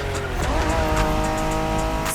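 A Honda NSX race car in the video game The Crew Motorfest drives with a loud, steady engine tone that rises slightly, with faint tire squeal and no voices.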